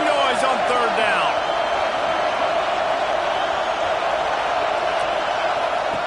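Home crowd at a Georgia vs Texas college football game roars during a third-down play, a loud, dense, unbroken wall of stadium noise that holds steady throughout.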